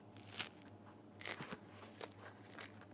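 Crunchy Neapolitan pizza crust being bitten, with a sharp crisp crack near the start and a few softer crunching bites following close by.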